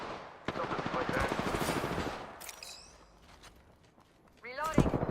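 Rapid bursts of video game gunfire crackle through the first two seconds, then thin into scattered shots and mechanical clicks before a final loud burst near the end, with a game voice talking over the action.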